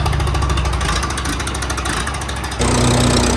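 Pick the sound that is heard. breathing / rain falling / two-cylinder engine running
two-cylinder engine running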